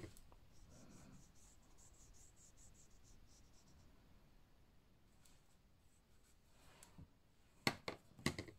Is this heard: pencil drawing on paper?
yes